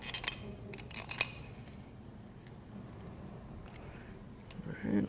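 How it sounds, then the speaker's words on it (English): Metal bolts are set into a press during a Honda pressure washer pump rebuild: a few light, bright metallic clinks come early, then a quiet stretch and a final rattle. "I'm gonna go ahead and set my bolts in there."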